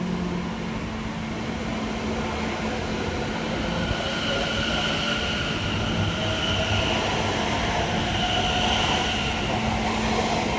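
A Greater Anglia passenger train rolls steadily through Seven Sisters station, a continuous rumble of wheels and motors with a low hum holding across the whole stretch, loud and close without any voices.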